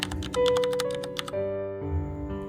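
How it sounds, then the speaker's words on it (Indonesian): Fast typewriter typing during a school drama about the Indonesian Proclamation, set on a quiet night: a brisk run of close, crisp key strikes over sustained background music, fading as the music carries on alone. "Suara mesin ketik terdengar jelas di tengah kesunyian malam."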